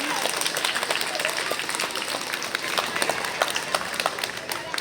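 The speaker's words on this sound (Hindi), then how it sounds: "बच्चे एक दफा एक बार आओ जोरदार तालियां बजा दें।" Loud, dense applause from schoolchildren at a Republic Day celebration in a senior secondary school, with sharp claps and some shouts running steadily through the whole stretch.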